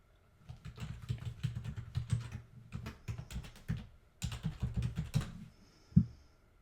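Keys on a computer keyboard clatter in quick bursts while an email address is typed, with short pauses between runs and a final louder tap, close and clear with no talking.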